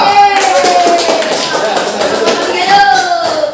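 Audience applause for a group at a classroom teaching practice session at Universitas Negeri Jakarta: a close, steady patter of hand clapping with some voices mixed in, lasting a few seconds.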